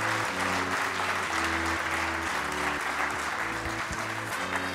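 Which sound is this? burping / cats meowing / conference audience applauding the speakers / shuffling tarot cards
conference audience applauding the speakers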